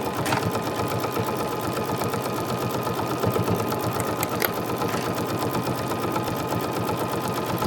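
A sewing machine basting the seams of a Christmas pillow runs steadily at a fast, even stitching rhythm, loud and close throughout with no pauses or talking.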